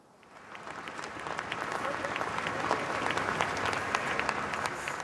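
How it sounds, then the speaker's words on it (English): A crowd of runners, survivors and bereaved relatives applauds together at the start of the Great Manchester Run, the clapping swelling from faint to a dense, steady ovation. "Survivors and relatives of the bereaved lined up today with competitors at the start of the Great Manchester Run for a minute's applause."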